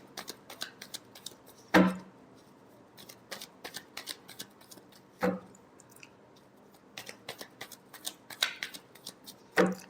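Tarot cards are shuffled by hand nearby, soft riffling flicks and light slaps repeating irregularly, with a few sharper card snaps standing out at intervals.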